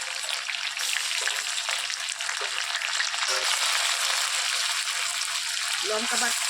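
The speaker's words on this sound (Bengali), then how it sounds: "লঙ্কা আর রসুনটাকে একটু ভালো করে ভেজে নিতে হবে।" Chili paste and garlic paste frying with chopped onions in a pan, a steady close sizzle and crackle with a voice talking briefly over it.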